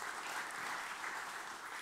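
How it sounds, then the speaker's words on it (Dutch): Audience applause for a speaker at a talk on timber architecture, a dense steady clapping from a crowd that fills the whole moment with no voices. "Groot applaus voor Leander."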